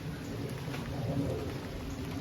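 Steady rain patters in a dense, even hiss with a low rumble beneath it, continuous throughout and without any voices.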